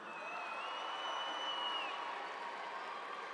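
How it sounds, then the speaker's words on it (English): Graduation audience at a high school ceremony applauds and cheers steadily, a dense wash of crowd noise with a faint whistle or whoop riding on top throughout. "Let's give a round of applause for this amazing young crabber."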